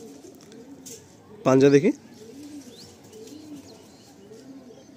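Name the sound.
Andhra pigeons cooing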